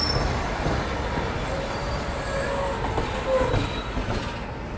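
A Sewagram Superfast Express passenger train rumbles along steadily in India, with a broad, continuous roar of wheels on track and faint squeals and clicks rising through it, heard from inside or nearby.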